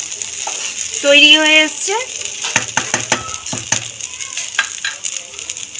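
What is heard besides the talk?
stirring broken wheat (dalia) with vegetables in a pan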